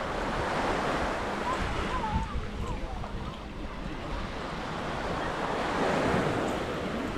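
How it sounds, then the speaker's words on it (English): Ocean waves wash onto Samae Beach on Koh Lan, a continuous broad surf wash with wind buffeting the microphone, faint background voices mixed in. "I'm just taking a moment to enjoy the breeze and the sound of the waves."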